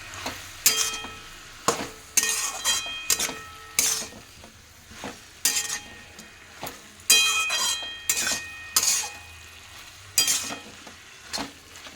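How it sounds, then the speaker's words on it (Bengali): Cabbage and half-softened potatoes dusted with turmeric are stirred in a pan, a spatula scraping and clinking in repeated strokes over a low sizzle, close and fairly loud with no talk. "ভালো করে নাড়াচাড়া করে নেব, হলুদ গুঁড়োটা ভালো করে সবটাই মিশে যায়।"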